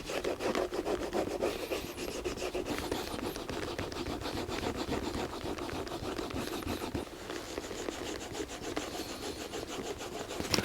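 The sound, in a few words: rubbing edge wax onto the welt of Tricker's shoes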